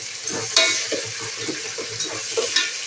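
Ingredients sauté with salt in a pan for green chicken biryani. A loud, close sizzle runs under repeated scraping stirs and light clinks of utensil on metal, with no speech.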